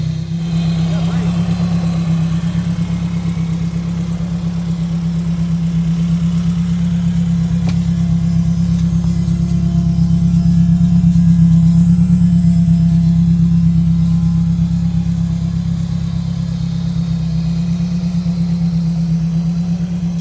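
A 1953 MG TF roadster fitted with a swapped-in Honda S2000 engine runs steadily nearby, giving a loud, even idle hum with slight swells in pitch while people talk over it.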